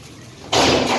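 A door bangs during heavy rain, arriving as a sudden loud burst of broad noise about halfway through that stays loud and steady after a quiet start.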